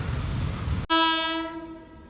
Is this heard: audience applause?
no